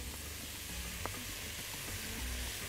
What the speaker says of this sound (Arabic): نحط البصل كده دلوقتي